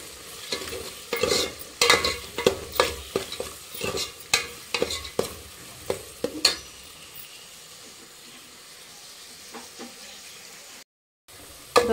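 Onions frying in a pan for a pumpkin curry, with a soft steady sizzle under repeated scraping strokes of a spoon for about seven seconds, then a quieter sizzle on its own; close and fairly faint, no talk.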